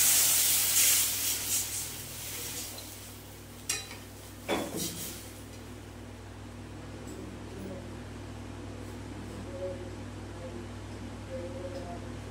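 Water poured into a hot pot of potato curry: a bright, loud hiss and spatter at the start that quickly fades, followed by a couple of pot clanks and a low steady simmer with background hum.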